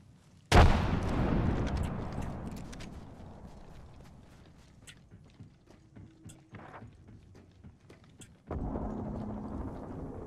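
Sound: grenade explosion in Apex Legends video game

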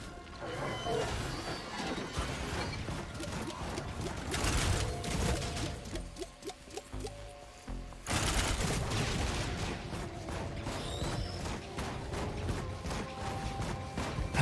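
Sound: turret firing in video game Risk of Rain 2

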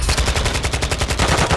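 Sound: gunfire in the video game Modern Warfare 2

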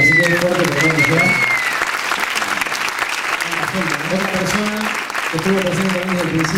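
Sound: audience applause at album presentation

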